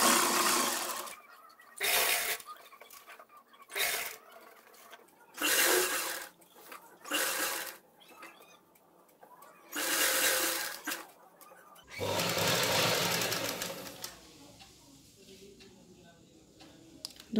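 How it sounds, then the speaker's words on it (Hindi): A sewing machine stitches elastic onto a pair of ladies' pants in short, repeated bursts of about a second each, separated by quiet pauses, with one longer run near the end. "इस पर एक सिलाई लगाएंगे लास्टिक का अंडरग्राउंड करने के लिए"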